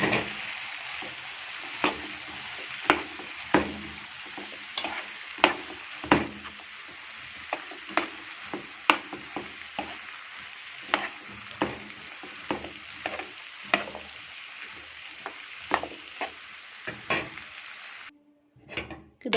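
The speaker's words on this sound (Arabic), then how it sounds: "انا يا دوبك كنت بشوحه كده" Sausage and potatoes with tomato sauce and spices sautéed in a pan, a steady sizzle broken by repeated sharp scrapes and stirring clanks of a spoon against the pan, close and moderately loud with no talk.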